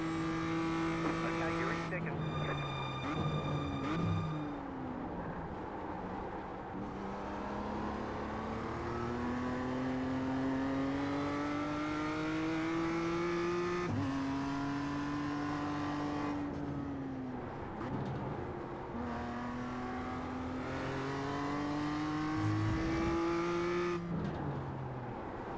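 BMW M2 race car engine in a racing video game, holding a steady tone that climbs in pitch through gear pulls, then drops at shifts, repeated several times through a tricky corner, with some tire noise and talking over it.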